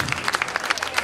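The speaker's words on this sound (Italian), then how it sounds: "Un applauso per le guardie reali, solenni." Applause for royal guards in a theatre performance, a lively burst of many people clapping with sharp individual claps standing out.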